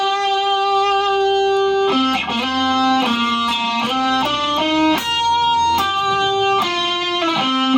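The guitar riff from a song is played as clean, fairly bright single notes and double stops. They move in a steady stepping pattern, up close and alone, with a held opening note.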